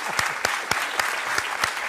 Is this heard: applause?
yes